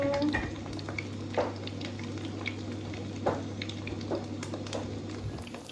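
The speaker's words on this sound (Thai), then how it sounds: "นี่ค่ะการทอดนะคะแบบสะดวกรวดเร็วค่ะ" Food sizzles steadily in a frying pan on a home stove, with a continuous crackling hiss and occasional stirring scrapes, close and fairly loud with no talking.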